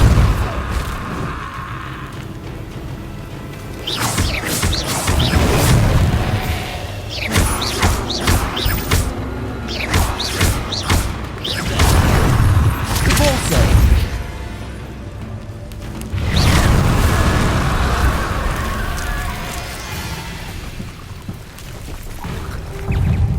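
Confringo and Repulsor spell blasts in Hogwarts Legacy: repeated loud booming bursts and crashes in clusters, with brief lulls between volleys and continuous game rumble underneath.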